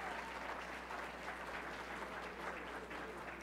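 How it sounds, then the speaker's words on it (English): A crowd at a school pep rally in Novi, Michigan claps in a steady, continuous round of applause, heard faint and distant as an even wash of many hands with no clear talk. "So a round of applause"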